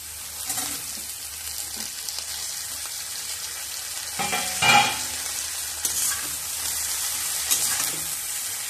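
Cut ash gourd stalks sizzle in a pan with potatoes and turmeric while a spatula stirs them, soft continuous frying with scraping bursts and one louder clatter midway, close and unvoiced.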